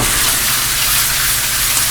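Butter sizzling hard in a warm frying pan while liverwurst fries, a loud steady crackling hiss close up with no break.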